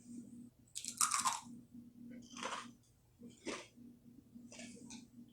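Crunchy bites and chewing of a crispy baked parmesan crisp topped with everything bagel seasoning, a few quiet crackling bursts spaced apart against a low steady hum.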